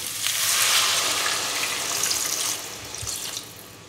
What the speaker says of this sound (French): vous rajoutez tout simplement les 50 centilitres d'eau